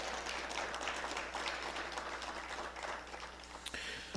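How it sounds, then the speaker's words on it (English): Fairly distant, even applause from an audience at a scholarship quiz competition, greeting two high school teams, a continuous wash of clapping without voices. "please get a round of applause for the Northeast Bradford Panthers and the Horseheads Blue Raiders"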